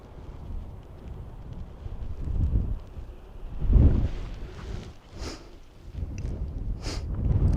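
Gusty wind blows across a tent campsite, buffeting the microphone in uneven rushes that rise and fall, with a few stronger gusts standing out.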